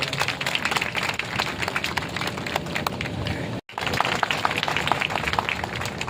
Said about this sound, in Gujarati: તાળીઓનો ગડગડાટ